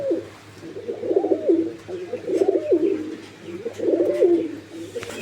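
Pigeons at a bird market coo in three evenly spaced, rolling phrases, close and clear over a low background hum.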